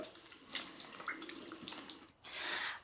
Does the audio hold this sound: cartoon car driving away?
no